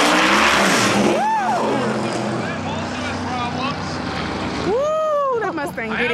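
A Ford Mustang race car roars down a drag strip at a packed Texas Motorplex event, its loud engine sweeping up in pitch near the start and again around the end over a steady crowd and track din, with people talking throughout.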